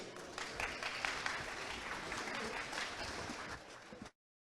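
Steady applause from a conference audience at ESI London welcoming a speaker to the stage, a dense even wash of clapping that holds for about four seconds and then stops abruptly.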